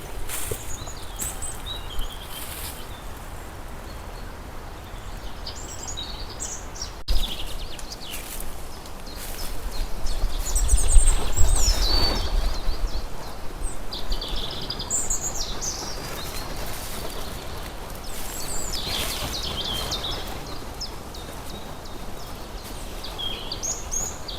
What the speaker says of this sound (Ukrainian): Чудово співають пташки.